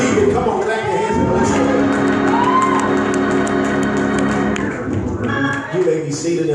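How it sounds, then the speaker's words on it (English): A church congregation at a resurrection service claps along, mixed with cheers, whoops and a sustained tone of music or voices, the crowd loud and close throughout. "come on, clap your hands"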